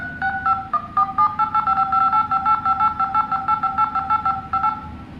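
Dial pad key tones from a Motorola Edge 30 5G phone, a rapid run of loud, clear two-pitch beeps pressed one after another in quick irregular rhythm, heard alone.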